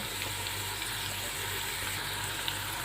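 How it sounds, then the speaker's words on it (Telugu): Small onions fry in hot oil with asafoetida and turmeric for a tempering, giving a steady, soft, close sizzle with faint crackles throughout. "చిన్న ఉల్లిపాయలు వేసుకున్నామండి కొంచెము ఇంగువ కొంచెం పసుపు"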